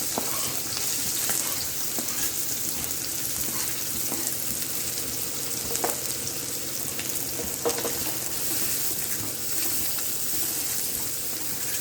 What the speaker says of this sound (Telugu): ఆయిల్ హీట్ ఎక్కాక ఆనియన్స్ వేసుకోవాలండి.